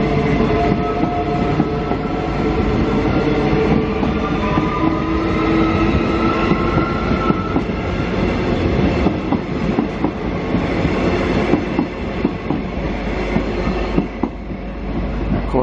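A train passes close by on a Brisbane railway line, with loud, continuous rumbling and rhythmic wheel clatter. Faint squealing tones rise and fall through the steady roar.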